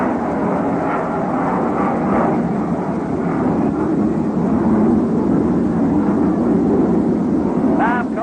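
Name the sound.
airplane flying over the ballpark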